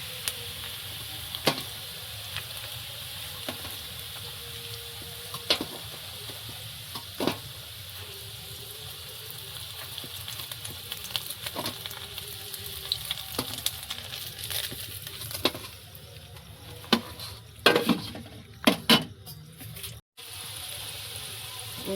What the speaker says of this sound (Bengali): সবগুলো এইভাবেই ভেজে তুলে নেব